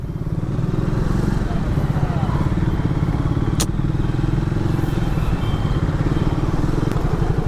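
A Triumph Thruxton 400 motorcycle pulls away hard in first gear on a road, its single-cylinder engine a loud, steady, close-up thrum with a sharp click partway through, and no talking over it.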